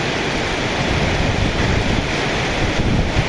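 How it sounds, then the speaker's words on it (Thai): Water flowing through a rice field, a continuous broadband rushing and gurgling wash heard close by, with some wind buffeting on the microphone. "เบิ่งน้ำไหลติล่ะ"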